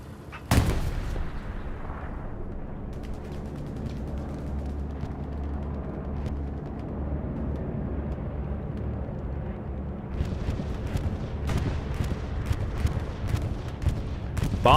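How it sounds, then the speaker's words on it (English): A bombing run in the World War II shooter Hell Let Loose, with a sharp blast followed by a long, heavy, rumbling roar of explosions that swells near the end as more sharp cracks join in. "Bombing run on its way."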